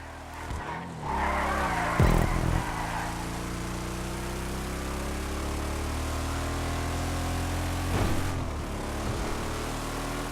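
A Declasse Vamos muscle car in Grand Theft Auto 5 drones along with a steady engine note, its tyres screeching in a loud skid early on and again briefly later, with no talk over it.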